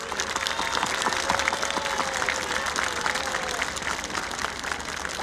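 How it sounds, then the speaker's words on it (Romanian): A large rally crowd of several thousand applauds the gendarmes outdoors, a dense sustained wash of clapping that stays even and loud throughout, with no voices standing out. "Haideți să aplaudăm pe jandarmi încă de la început!"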